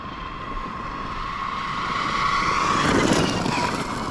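Losi Super Baja Rey 2.0 RC truck motor whining steadily at three-quarter throttle, a continuous high-pitched electric drone with tire and drivetrain noise, swelling slightly louder toward the end as the truck passes close.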